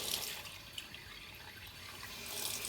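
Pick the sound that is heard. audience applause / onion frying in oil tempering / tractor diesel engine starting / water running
water running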